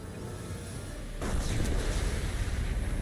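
An explosion goes off in the video game Mass Effect 2, a sudden heavy boom that breaks through a low rumble and leaves a loud, rolling roar lingering after it.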